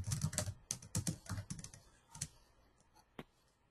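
Keys tapped on a computer keyboard in quick irregular bursts, loud and close at first, then thinning to a few sparse strokes, with no talk over them.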